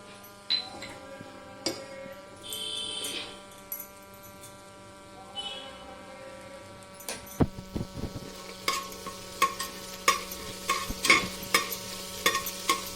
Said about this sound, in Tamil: அரை ஸ்பூன் வெந்தயம் போடணும்.